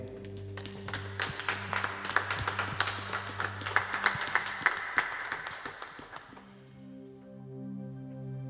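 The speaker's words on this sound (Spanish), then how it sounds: "Démosle un aplauso al Señor desde su casa." A church congregation applauds together, a dense stretch of clapping over sustained organ or keyboard chords that fades out, leaving the music ringing alone.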